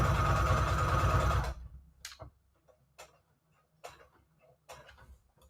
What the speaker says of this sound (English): I'm just going to sew basically along the same line that I sewed the first time